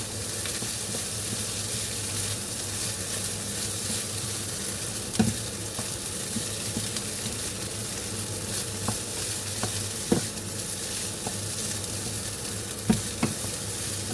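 Fried rice with dark sauce stir-fried in a pan gives a steady, close sizzle throughout, broken by occasional scraping clicks of the spatula against the pan.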